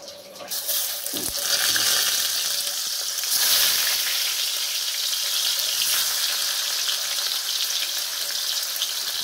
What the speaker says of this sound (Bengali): এই দেখো আমি মাছগুলো ভাজা বসাচ্ছি।